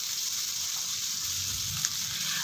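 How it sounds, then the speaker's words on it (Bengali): Cut potatoes frying in hot oil in a wok seasoned with black cumin seeds, a steady close sizzle with faint stirring and no talk. "আলুটাকে খুব ভালো করে নরম করে ভেজে নিতে হবে"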